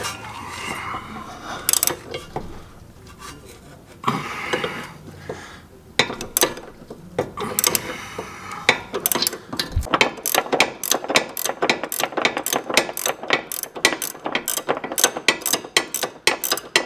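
A wrench ratchets off 18 mm sway bar link nuts on a Honda CR-V, giving rapid metallic clicking that starts sparse and builds into a dense, fast run of ratchet clicks in the second half, with no talk.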